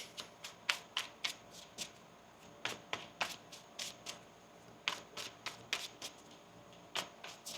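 Tarot cards being shuffled by hand in a quiet room, a run of crisp riffling flicks and snaps in an uneven rhythm, close and fairly soft, with no one talking.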